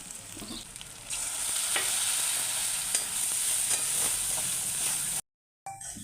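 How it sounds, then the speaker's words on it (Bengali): Masala sizzles hard in a pan while cooking lote (Bombay duck) fish, a loud, steady frying hiss with small pops that cuts out abruptly near the end and then returns briefly. "আমি মাছ রান্না করছি দেখো তোমরা কেমনভাবে মশলাটা কষা তেমন দেখো"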